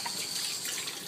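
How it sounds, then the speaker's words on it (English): Running tap water flows into a sink while hands are washed, a steady close hiss of water with no pauses. "I need to wash my hands."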